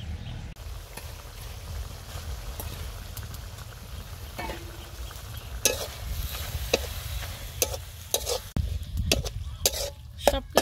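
Greens are stirred into a sizzling curry of freshly caught river boal fish in a village kitchen, with steady close scraping and clattering over a continuous low frying hiss and sharper knocks toward the end.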